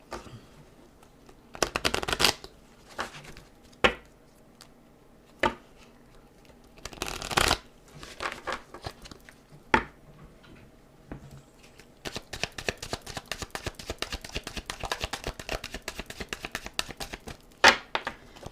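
Tarot cards being shuffled and cut by hand, with scattered crisp riffles and slaps at first, then a long run of rapid, close shuffling near the end.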